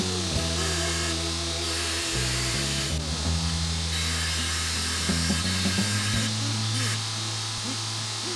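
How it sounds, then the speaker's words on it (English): A belt grinder squares up bellows parts cut from pallet wood, a steady motor whine with shifting grinding tones as pieces press against the belt, running continuously at close range. "just using my belt grinder to creep up to the lines and get it all squared away"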